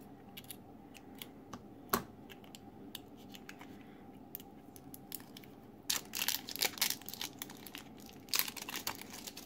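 Plastic wrapping around a washi tape package is handled and torn open, giving sparse crinkles and clicks that thicken into louder bursts of rustling crackle near the end, close and without talk.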